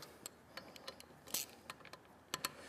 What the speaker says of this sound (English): So take a wrench and loosen all these.